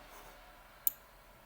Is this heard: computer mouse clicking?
yes